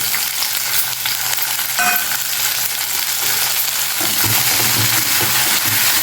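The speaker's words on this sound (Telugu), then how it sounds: "ఇందులో రెండు టమోటాలు ఇలా తరిగి పెట్టుకోండి ఇవి ఇందులో వేసేయండి" Chopped tomatoes fry in a pan of hot oil, giving a steady, close sizzle with occasional stirring scrapes throughout.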